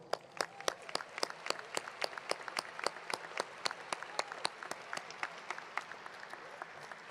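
Graduation crowd applauding the school faculty in a large stadium venue, a dense, somewhat distant wash of clapping with sharp individual claps standing out, sustained across the whole stretch.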